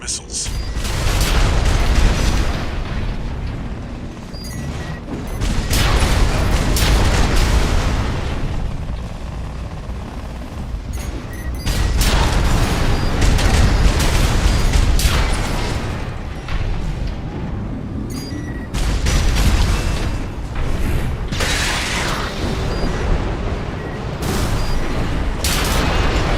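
Missile blasts and heavy booms in Armored Core 6 roll through a loud, dense mech battle, with repeated surging explosions and mechanical clatter throughout.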